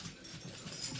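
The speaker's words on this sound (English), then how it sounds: "My two dog was chasing around in here." Two dogs chase around indoors, with faint scuffling, whimpers and panting close by in a quiet room.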